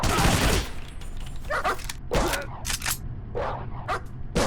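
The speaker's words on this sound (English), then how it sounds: "Oh, dog!" Dog barking in the post-apocalyptic game Wasted, several sharp loud barks in quick irregular bursts mixed with gunfire-like bangs over a constant background rumble.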